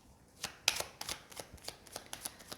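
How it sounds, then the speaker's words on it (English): A stiff, hard deck of playing cards being shuffled, heard as a quick series of close, crisp riffling snaps and flutters at a soft level with no speech. "It's a little bit difficult to shuffle. They are become a little bit hard, this deck."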